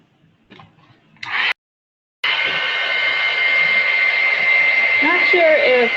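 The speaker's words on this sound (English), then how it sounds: "Not sure if blow drying the stuff works." A hair dryer blowing on effect paste in an art journal, starting after a brief gap with a loud, steady whir that holds to the end, preceded by faint handling noises.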